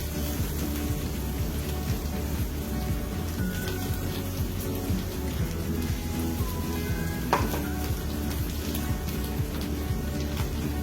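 A spice paste sautés in a pan with a constant, close sizzle and crackle, joined by an occasional scrape or clink of the spoon, loud and unbroken with no one speaking.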